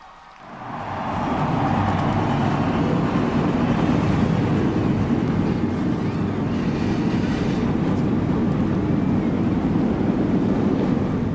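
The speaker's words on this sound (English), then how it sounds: "they've got those engines fired up and they're rolling off." A loud, continuous roar of many engines swells up within the first second and holds steady, a dense rumbling drone with no talk.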